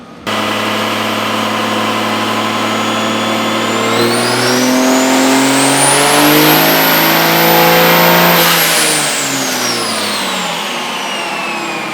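A 5th gen Cummins diesel engine in a 750 hp build, revved hard and loud, climbing steadily to a sustained high pitch, holding there, then easing back down, with no voices.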